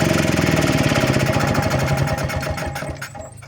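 A generator runs with a loud, steady, rhythmic engine chug close by, then begins to wind down and fade near the end.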